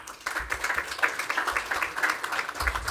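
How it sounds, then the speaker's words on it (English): Audience applause at an academic security symposium session, a moderate, slightly distant patter of many hands clapping that holds steady for about three seconds. "Let's give a round of applause."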